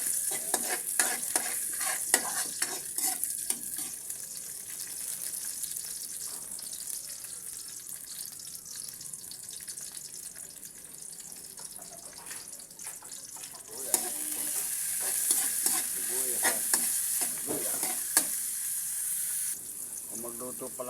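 Garlic frying in cooking oil in a home kitchen, with chicken liver and gizzard to follow, gives a soft steady sizzle with stirring and clinking. It is fairly faint and continuous, with running water and a tap in the background and louder sizzling toward the end.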